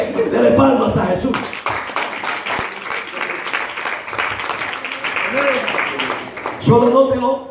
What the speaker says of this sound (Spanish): Dele palmas a Jesús